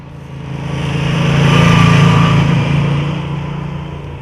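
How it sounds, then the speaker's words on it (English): A loud, deep Moto Guzzi V9 motorcycle engine rumbles steadily, its exhaust note swelling in the middle before easing slightly, close by and continuous. "a deep and rich exhaust note and mechanical noises from deep in the bowels of the V9"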